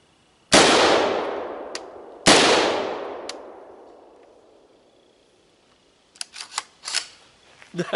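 Two loud, close rifle shots fired through a Cosmic Tactical Saturn scope boom about two seconds apart, each ringing out into a long decaying echo, followed by faint clicks and handling sounds.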